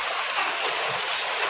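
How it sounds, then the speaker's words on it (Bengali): Steady rain pours down in a village on an overcast, cold winter day, a dense continuous hiss of drops hitting surfaces with no voices. "এখনো বৃষ্টি পড়ে যাচ্ছে"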